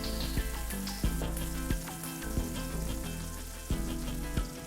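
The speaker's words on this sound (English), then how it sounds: "And then let them fry for at least 5 minutes." Potato rösti fries in a tablespoon of fat in a pan, giving a steady close sizzle and crackle with sharp pops scattered throughout.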